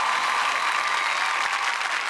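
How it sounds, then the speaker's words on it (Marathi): A studio audience at a Marathi comedy show bursts into loud, dense applause, sustained and even across the short moment. "जोरदार टाळ्या."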